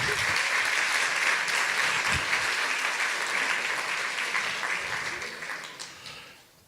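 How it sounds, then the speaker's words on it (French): An audience at a chemistry olympiad award ceremony applauds the prize winners, loud sustained clapping filling the room before gradually fading away. "On peut les applaudir quand même."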